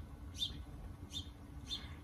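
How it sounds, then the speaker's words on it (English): Outdoor birds give three short, high chirps at an even spacing, faint and somewhat distant against a quiet low background hum. "I think the birds are trying to chirp over me."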